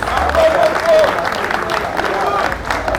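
An audience claps steadily at a youth New Year's greetings gathering, sustained applause with crowd murmur mixed in, filling the room evenly without a clear start or stop.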